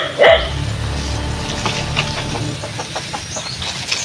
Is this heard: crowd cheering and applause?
no